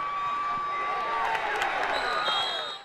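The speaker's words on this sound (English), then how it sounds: "treasure the roar of the crowd when they score" Crowd roaring and cheering at a Friday night Port Charlotte Pirates high school football game, a dense steady swell of voices and whoops that stays loud for a few seconds and then drops off at the end.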